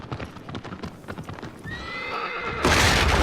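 The horse Argo in the Shadow of the Colossus remake clatters up a stone stairwell with rhythmic hoof clip-clops, then lets out a whinny before a loud rushing burst of game noise.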